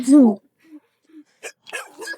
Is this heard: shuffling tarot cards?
no